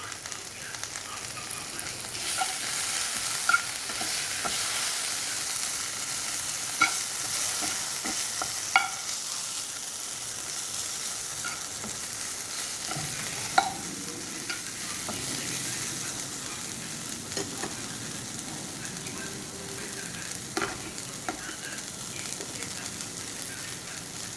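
Capsicum, onion, garlic and tomato purée sizzle steadily in a hot pan while a utensil stirs and scrapes, with occasional sharp taps against the pan throughout.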